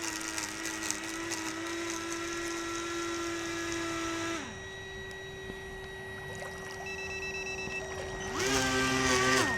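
A 3D printed model air boat runs on floodwater with a high, whining motor and propeller drone that holds steady, dips as the throttle drops, then climbs back to a louder buzzing whine.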